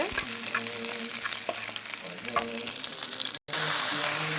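Curry with onion frying in a pan, a steady broad sizzle with stirring clatter throughout, briefly cut out near the end before resuming.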